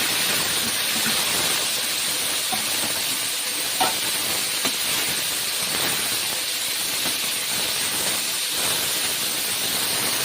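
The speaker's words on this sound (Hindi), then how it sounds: "अब तेल गरम हो गया। अब डाल दिए हैं मिर्चे। मिर्च खूब अच्छे से भुन जाएंगे जब मैं टमाटर डालूँगी। टमाटर डाल देते हैं।" Tomatoes and green chilies sizzle in hot oil for chana sabzi, a steady, fairly loud hissing fry with a few small pops and crackles, no voices.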